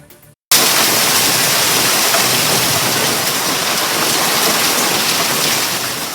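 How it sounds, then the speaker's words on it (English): Heavy rain from a storm pours down in a backyard in Prescott, a loud dense steady roar that starts abruptly after a brief quiet moment and continues without talk. "heavy rain from those storms drenched that area"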